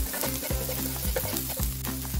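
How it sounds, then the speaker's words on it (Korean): Garlic and sliced green onion sizzling in a pan while a bracken side dish is stir-fried, a close, busy crackle with repeated rhythmic scraping strokes as the pan is stirred. "마늘이 노릇하게 익어갈 때쯤에 아까 미리 썰어주신 대파를 넣어주세요."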